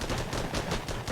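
Machine gun fire in the tank combat game Armored Battle Crew, a rapid, rhythmic burst of repeated shots at moderate volume lasting about a second.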